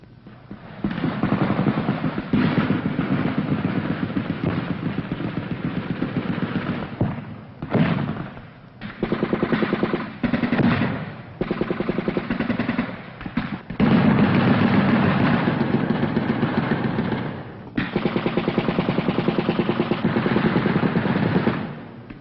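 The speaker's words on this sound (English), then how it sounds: "Our return fire continues well into daylight." Sustained combat gunfire from a 1966 Vietnam War battle on a flooded Mekong Delta plantation, with 25th Infantry Division troops returning machine gun and mortar fire; dense, continuous bursts and rattles run throughout with brief pauses and no speech.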